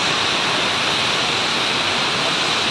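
Capandagan Falls in San Gabriel, La Union roars as a loud, close, constant rush of falling water with no other sounds.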